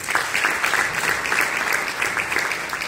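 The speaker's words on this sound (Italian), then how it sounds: "un applauso a Anaì" An audience claps together in a steady burst of applause for a volunteer during a live escape-artist record attempt, dense hand claps filling the whole stretch with no talk over them.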